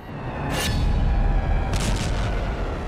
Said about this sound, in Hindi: आग उगलती मिसाइलें।